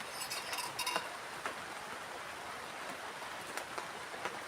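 Rain keeps falling on a plastic camping shelter in a forest, a steady close patter with scattered sharper drops tapping on the surface.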